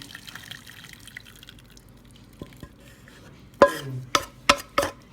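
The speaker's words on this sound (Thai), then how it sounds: "น้ำที่เราต้มไว้นะครับผม กรองครับผม" Boiled water being strained through a strainer while making gravy, faint trickles and drips at first, then a few louder splashy pours and drops close by near the end.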